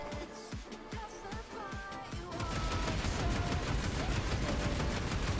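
Rapid gunfire from a primary weapon in the video game Shrine of the Eidolon, sharp repeated shots at first, then a dense, louder continuous burst of fire filling the second half.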